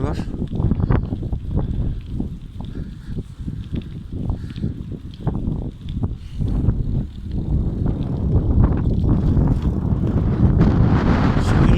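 Strong wind buffeting a microphone while riding a bicycle into a headwind, a loud continuous roaring rush with gusty surges that grow heavier toward the end.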